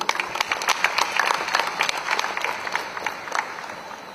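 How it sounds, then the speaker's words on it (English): An audience at an environmental summit in Goa breaks into applause, a bright scatter of many hands clapping close by that swells and then slowly thins out. "Let's have a resounding round of applause for Dr."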